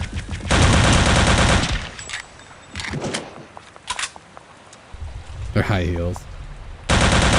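Bursts of automatic gunfire from a weapon in Return to Castle Wolfenstein come in loud, dense volleys at the start and end, with scattered single shots and a brief spoken line in between.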